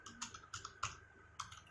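Computer keyboard typing in short clustered bursts of clicky keystrokes, fairly quiet and close, with a steady faint hum behind and no talking.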